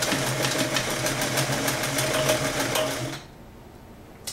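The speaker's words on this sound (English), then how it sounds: "People love these Sears Kenmore because they have one of the most accurate and perfect looking zigzag stitches" A vintage serviced Sears Kenmore heavy duty sewing machine runs a zigzag stitch, a fast, even, close mechanical whir with a rhythmic needle clatter that stops abruptly near the end.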